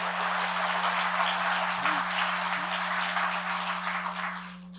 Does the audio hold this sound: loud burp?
no